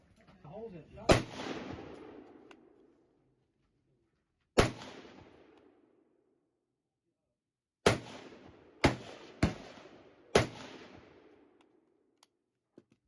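Six sharp shots from an M1 Garand rifle ring out outdoors, each followed by a decaying echo: two single shots spaced apart, then a quicker run of four.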